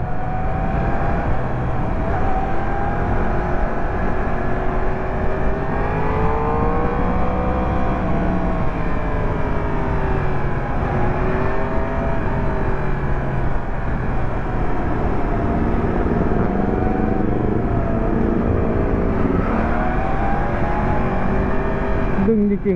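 A Yamaha R1 sport motorcycle weaves through traffic while its engine rises and falls in pitch, a steady loud whine with repeated throttle swells and a rider's voice talking over it.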